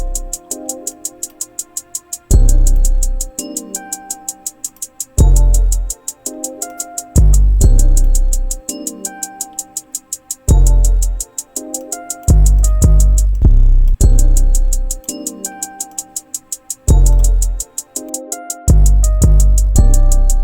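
FL Studio trap beat with a punchy 808 bass line tracking the root notes of a looping melody, layered with rapid hi-hat rolls and drums. Loud, steady rhythm, with brief dropouts where the low end cuts out, and no talking.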